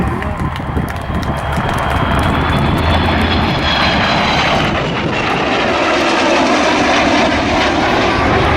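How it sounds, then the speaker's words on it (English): Avro Vulcan XH558 jet bomber flying past, its loud engine roar steady and continuous throughout, with a rising whine sweeping upward as the aircraft passes. "So here she is, Avro Vulcan XH558."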